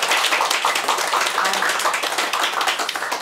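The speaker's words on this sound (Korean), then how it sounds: "박수를 또 막 힘껏 쳐주셔서 너무너무 감사하고요" Audience applause at a lecture hall talk, loud and dense with many hands clapping together in fast, overlapping bursts that continue steadily throughout.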